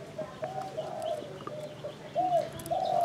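Soft, repeated cooing of a dove, likely a captive bird kept for decoy trapping in Phú Yên, Vietnam; several drawn-out coos rise and fall, growing louder toward the end, over faint background noise.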